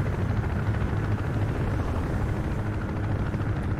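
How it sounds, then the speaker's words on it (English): A video game enemy helicopter, an attack chopper closing in on a hilltop forward base near a village, gives a steady, loud low rotor rumble and drone that runs unbroken with no voices. "Enemy chopper coming in the same location, and an APC or something."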